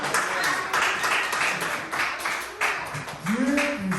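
A church congregation claps together in a steady rhythmic beat, loud and close, with a voice speaking or singing over the clapping.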